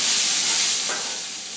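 Brussels sprouts sizzle loudly in a hot pan as they are stirred, a steady close frying hiss with a brief scrape partway through, easing slightly toward the end.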